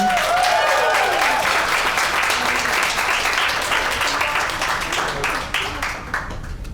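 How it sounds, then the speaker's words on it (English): Dense audience applause for a guest speaker at a career talk, loud at first and gradually thinning out over several seconds, with no voices above it. "Let's give her a round of applause, everyone."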